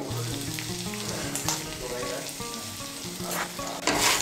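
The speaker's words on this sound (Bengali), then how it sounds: "নুন চিনিটাকে মিশিয়ে নেব, মিশিয়ে নিয়ে চালটাকেও মশলার সঙ্গে একটু ভালো করে কষিয়ে নেব।" Rice frying in a pan with spices, salt and sugar for a vegetarian rice and pointed gourd dish, a steady loud sizzle with stirring scrapes and clatter throughout, no voices.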